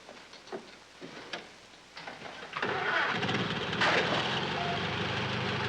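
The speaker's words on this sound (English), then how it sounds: "this is an uncommonly fine car you got here, Wes." A car engine in a 1940 comedy cranks a few times, then catches and settles into a steady mid-pitched running hum that grows louder, with no voices over it.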